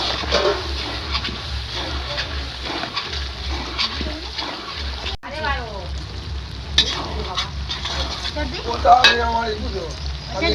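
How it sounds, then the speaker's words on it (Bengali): Spice paste of turmeric, chili, cumin and coriander powders with green chili frying and being stirred for a village-style mutton curry, a steady loud sizzle with scraping stirs throughout, close up, no talk. "এবার মশলাটা খুব ভালোভাবে কষে নিচ্ছি"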